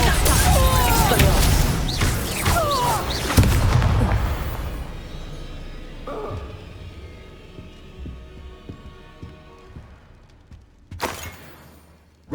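A Confringo fire blast spell cast in Hogwarts Legacy bursts out loud and booming at the start over rumbling game noise and crackle, then fades, with a second sharp blast near the end.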